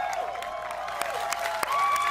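A crowd at the EA Play gaming event, picked up by a crowd mic, claps and cheers in a broad, steady wash, with a few sharp claps and a whooping call near the end.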